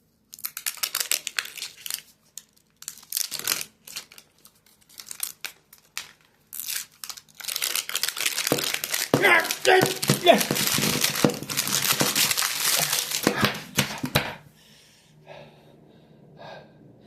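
Crinkly plastic packaging of a Lord of the Rings mini-verse toy ball being opened up close, with bursts of crumpling and tearing that grow denser and louder midway, then stop abruptly, leaving faint rustles.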